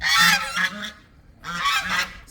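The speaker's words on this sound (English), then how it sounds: "There's some beautiful birds here." Geese honk loudly and close at a farmyard on a cold sunny day, two harsh bursts of several rapid honks separated by a short pause.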